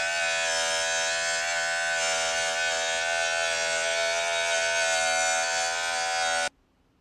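A Baileigh CM-10P portable beveling machine runs with a loud, steady, high-pitched motor whine for about six seconds, then cuts off abruptly.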